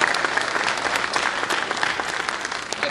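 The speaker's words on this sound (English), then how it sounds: "Let's have a round of applause for all the candidates on round one." A church audience at a 2011 Hanover Board of Supervisors candidate forum applauds the first-round candidates with steady, dense clapping that fills the room at an even level throughout.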